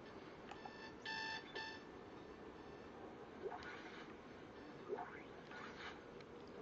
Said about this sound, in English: I don't like alarm clocks, though.